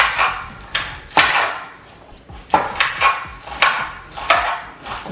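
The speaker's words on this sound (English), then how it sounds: "She gonna chop some, I'm gonna chop some." Knife chopping food on a cutting board while making leftover turkey soup, a series of sharp, close, loud chops at an uneven but steady pace, with no talking.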